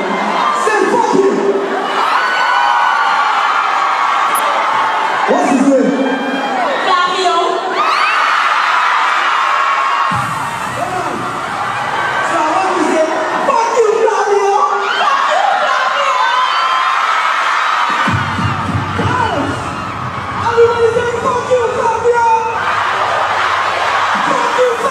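A large concert crowd shouts, whoops and cheers without a break, a loud mass of voices with shrill individual yells rising above the roar throughout.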